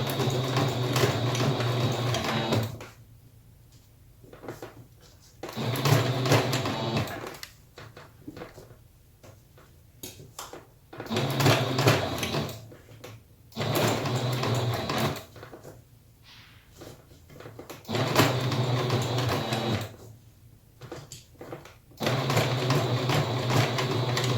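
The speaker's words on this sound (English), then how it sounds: "go slow because this is a lot of fabric for your machine to go through" A sewing machine stitches slowly through thick layers of fabric for a face mask, running in loud bursts of a few seconds separated by quiet pauses, close up, with no talking.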